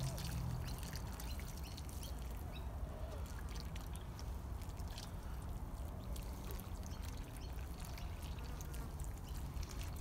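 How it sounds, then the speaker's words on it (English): Water pours steadily onto seedlings in a garden bed, a continuous close trickling wash that runs unbroken for the full ten seconds with no talk, at a quiet level. "I'll top it up with water and go watering those seedlings"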